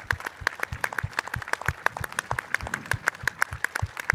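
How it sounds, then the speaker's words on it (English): A crowd at an event for a P-51B Mustang warbird claps for veterans, with sharp, distinct hand claps in a quick, fairly regular rhythm that keeps an even volume throughout. "I want to give a round of applause"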